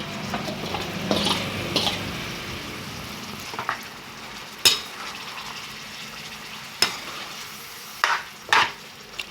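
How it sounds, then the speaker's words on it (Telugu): Chicken pieces coated in ginger-garlic paste for a curry sizzle gently in a pan, with a handful of spaced, sharp spatula knocks and scrapes against the metal, and no voices. "దాన్ని అయితే ఇప్పుడు తిప్పుకోవాలి."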